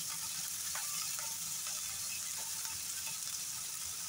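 Onions and green chilies sizzle steadily in a hot pan, a continuous bright frying hiss with occasional soft clicks of stirring, close and even, with no talking.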